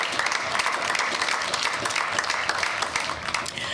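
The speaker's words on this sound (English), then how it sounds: "they deserve a round of applause too" Audience applause at a civic ceremony honoring city staff, a dense steady clatter of many hands clapping throughout, fairly loud and close with no talking over it.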